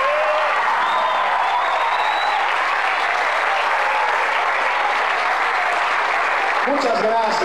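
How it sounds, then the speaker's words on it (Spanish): Concert audience at a youth symphony orchestra performance applauding the conductor, a long, steady roar of many hands clapping with a few faint cheers near the end. "Un aplauso para el director."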